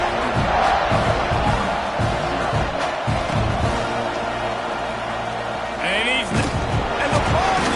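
A home crowd cheers steadily through a College Football 26 video game broadcast of Texas A&M at Florida, a loud continuous stadium roar with commentary voices talking over it.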